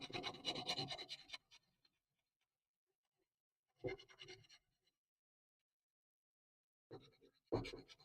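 A lathe tool is sharpened on a 400 grit diamond stone: three short, close bursts of scratchy grinding strokes, with near silence between them.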